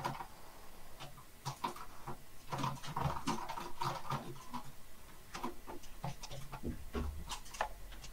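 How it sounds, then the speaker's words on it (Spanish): Heavy rain falling outside, a steady dense patter with scattered sharp ticks and drips running continuously throughout at moderate level, with no talk over it. "Está lloviendo aquí sabroso."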